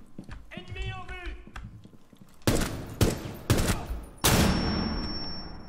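Gunfire in Rainbow Six Siege comes as several loud, sharp shots and short bursts in the second half, following a stretch of talk and game voice.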